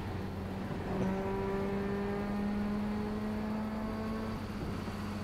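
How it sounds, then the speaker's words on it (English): A motorbike engine in a truck simulator game revs steadily while standing still, its sustained harmonic drone holding and swelling in pitch at a constant loud level with no speech. "He's just revving her right up, just sitting there."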